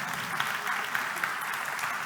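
Applause follows a talk at a software testing conference on driving assistance systems, a steady moderate wash of clapping from the audience with a few sharper claps, fairly distant and even.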